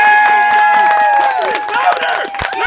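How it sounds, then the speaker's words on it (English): Children clap their hands in response at a play, with brisk scattered claps heard under a loud chorus of shouting and cheering young voices. "If you believe in fairies, clap your hands!"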